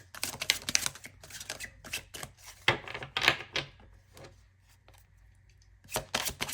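Tarot cards being shuffled by hand, a run of quick riffling bursts with short pauses between, close and moderately loud, with no talk over it.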